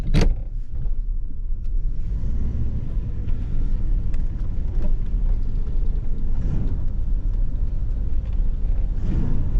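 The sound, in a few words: 1985 Buick LeSabre V8 car driving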